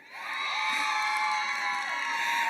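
A commencement audience cheers and whoops, a sustained crowd roar with high shouts from many voices, steady and fairly distant for a couple of seconds.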